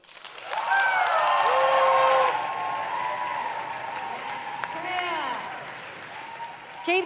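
A crowd at a poetry slam final at the Roundhouse applauds, with loud, sustained clapping mixed with high whoops and cheering voices that swell early and then taper, and a voice speaks near the end.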